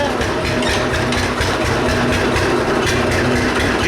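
A cold John Deere 60 tractor engine idles, a loud low, steady chugging rumble with a regular pulsing beat and a faint humming whine, running slightly rough up close.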